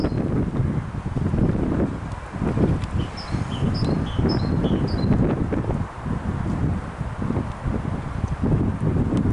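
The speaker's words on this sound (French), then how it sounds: "Avec le vent." Wind gusts through an open meadow, a steady broadband rush against the microphone that swells and eases, with faint birdsong in the background.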